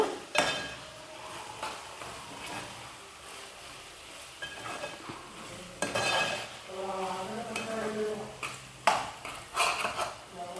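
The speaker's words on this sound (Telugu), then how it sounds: "ఒకసారి కలుపుకుందాం." A spoon scrapes and clinks against a pot while coriander powder is stirred into mutton kheema, producing irregular stirring strokes with soft sizzling underneath and occasional metallic pings.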